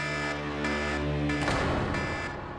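An alarm in a CID crime drama scene sounds as a loud, steady electronic tone that shifts partway through into a harsher, noisier blare, continuing without pause to the end.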